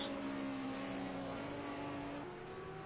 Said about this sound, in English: I think the Audi R8 is definitely in the top 5 for the best sounding GT3 car.